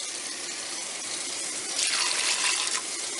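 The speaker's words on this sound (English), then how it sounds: "Got some water here running in the sink." Tap water runs steadily into a kitchen sink while green beans are being cooked, a continuous close hiss that swells louder for a moment as the flow strikes the basin or fills a container.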